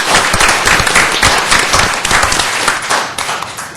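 Sustained applause from an audience at a city council informational meeting in Sioux Falls, dense steady clapping lasting throughout at close range with no speech.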